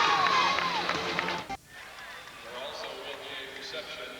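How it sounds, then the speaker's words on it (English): Crowd filing out of Redbird Arena after a girls' high school basketball championship, a broad murmur of many voices and footsteps that drops briefly then settles into a steady, fainter hubbub, with talking over it. "The crowd starts to file out of Redbird Arena"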